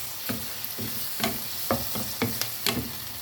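A spoon stirs a sweet and sour escabeche sauce with ketchup in a pan, giving a handful of close scraping strokes at an uneven pace over a low, soft sizzle.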